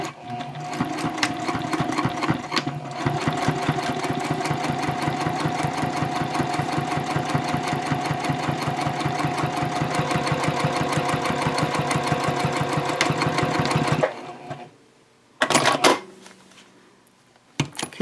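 A sewing machine runs a rapid, even chatter of stitches for about fourteen seconds as it sews a pocket line on a messenger bag at stitch length 3.0. It then stops, followed by a couple of short bursts, loud and close.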